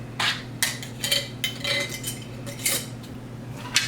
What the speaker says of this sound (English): I'm just going to stir this up and just mix it around a little bit.